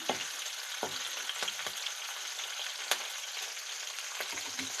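Tempering spices with dried red chillies crackle and sizzle in hot oil, a continuous hiss broken by sharp pops and spatters, close and with no talking.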